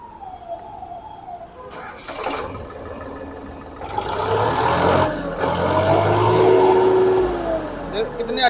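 A tractor engine starts partway through and settles into a steady, rising idle with revving, fairly close and loud, while someone talks over it.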